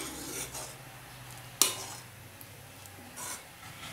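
Sweet corn soup with butter and pepper is stirred in a pot, a soft, faint swishing with one sharp clink of the spoon against the rim partway through, no speech.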